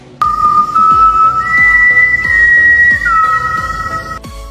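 A person whistles at night in a film scene, a clear sustained tone that jumps up in pitch and later drops back, set over steady background sound with faint ticking.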